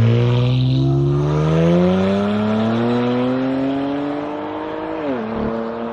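A modified Lamborghini Huracan on a race circuit, its engine note climbing steadily under load before a sharp dip like a gear change near the end, loud, close and without any talk.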